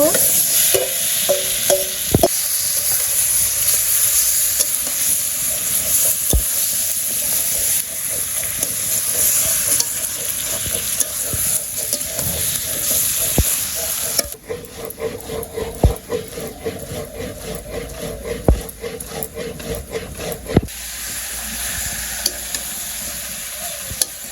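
Meat and onion fry in a pan with a loud continuous sizzle and hiss, punctuated by sharp clanks of a utensil stirring; the sizzle quiets partway through while the irregular stirring knocks continue.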